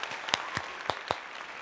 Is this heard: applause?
yes